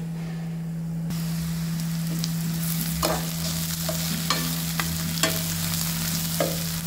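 Onions sautéing in hot oil with cumin seeds, whole red chilies and bay leaves for a Bihari chicken curry, a steady close sizzle with occasional stirring scrapes and soft crackles under a constant low hum.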